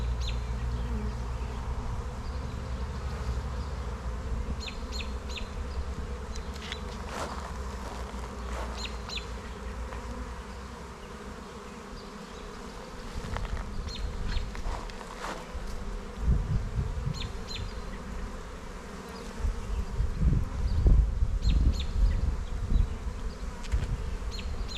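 Honeybees buzz around an open hive boxed for honey supers, a steady close drone of many insects with individual bees passing near, while a few rustles and handling knocks build toward the end.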